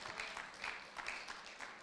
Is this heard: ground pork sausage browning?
no